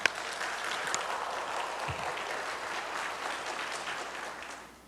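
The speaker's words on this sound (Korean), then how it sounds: "우리 권사님 나오실 때에 우리 박수로서 맞이하겠습니다" A church congregation at a Friday prayer service claps to welcome a deaconess to the front, an even wash of applause that holds steady and fades slightly at the end.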